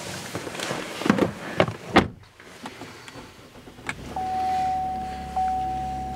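Power memory seat motor in a Cadillac SRX interior, starting after a few clicks and handling noises and running as a steady, fairly close electric whir for the last couple of seconds, with a brief change in pitch near the end.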